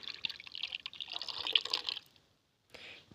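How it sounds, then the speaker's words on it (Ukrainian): A litre of milk is poured into rainwater to make a strawberry treatment, giving about two seconds of steady close splashing followed by a brief trickle after a pause. "Виливаємо літр молока."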